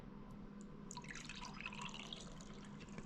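Water spilling over the rim of a bin and trickling down, faint steady splashing and dripping that swells after the first second, quiet and close with no voices.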